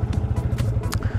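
Yamaha New Vixion motorcycle engine fitted with an R25 exhaust, idling close by with a rapid, slightly uneven low-pitched throb and faint clatter.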